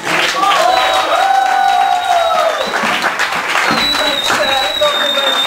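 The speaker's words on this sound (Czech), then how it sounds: "Prosím potlesk" Loud audience applause at a 2009 hair-styling show, with a crowd clapping steadily up close and voices calling out and talking over the clapping throughout.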